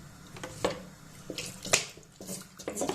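A little water poured into a cake mixture, with soft splashing trickles in short bursts and faint clinks.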